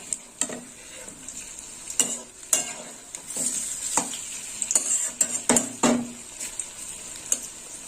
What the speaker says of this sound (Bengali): আর বড়াগুলো উল্টে দেবো